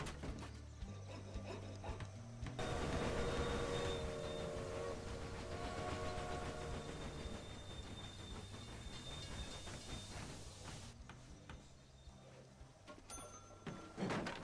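A train runs in the Railway Empire simulation game, heard as a quiet, continuous rolling rumble with faint whistle-like tones and a brief bark-like sound mixed in, ending with a few soft clicks.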